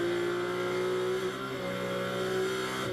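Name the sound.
GT4 race cars driving at Las Vegas Motor Speedway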